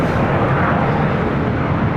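A Southwest Boeing 737 MAX 8 arrives from Dallas at LAX, heard as a dense, loud, unbroken rumbling roar of engine and wind noise over the short stretch.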